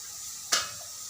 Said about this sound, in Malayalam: ഇനി നമുക്ക് അതിലേക്ക് ചിക്കൻ ഇടാം.